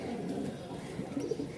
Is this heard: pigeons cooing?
yes